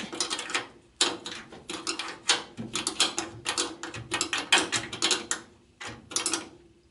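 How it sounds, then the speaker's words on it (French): Bolts on a Citroën Traction 11B being tightened with an 11 mm spanner, giving repeated bursts of metallic ratcheting and clicking in quick rhythmic strokes, close and fairly clear, with short pauses between runs. "Un petit coup de clé de 11 ici."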